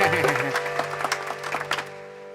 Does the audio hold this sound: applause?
yes